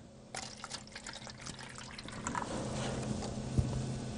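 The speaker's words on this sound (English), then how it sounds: "I fill up the cups with a little." Distilled water pours into cups in a close, steady trickle that starts abruptly and rises slightly in pitch and fullness as the cups fill.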